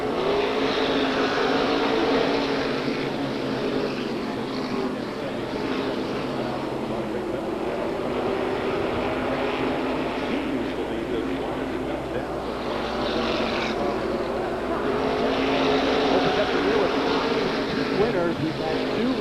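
Stock cars race at Waterford Speedbowl on a Saturday feature night, one car passing on the outside lane, their engines a steady loud roar that runs under an announcer's commentary.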